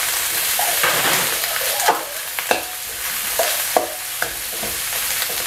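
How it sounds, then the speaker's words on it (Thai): Soft Chinese kale leaves tossed in a sizzling wok with crispy fried snakeskin gourami, a continuous frying hiss with irregular spatula scrapes and clacks, close up and without voices. "ผัดสักครู่ต่อตามด้วยส่วนที่นิ่มเลยครับ"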